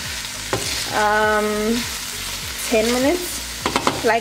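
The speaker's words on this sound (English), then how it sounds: "just keep on turning it, browning it" Chicken, mushroom and bacon browning in a pan on medium heat, a constant sizzle with a spatula tapping and scraping, while a voice talks over it in bursts.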